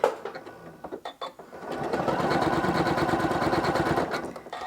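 A sewing machine running decorative quilt stitches, starting with a few short stops and starts, then settling into a loud, close, steady mechanical whir with a rapid rhythmic chatter for several seconds before it winds down.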